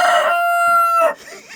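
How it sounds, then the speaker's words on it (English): A rooster in a winter coop in Alaska crows once, loud and close, a bright harmonic call that cuts off sharply. "what I like about this rooster here that doesn't have a name yet"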